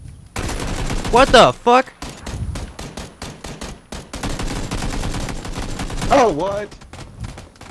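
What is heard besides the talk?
gunfire in PUBG video game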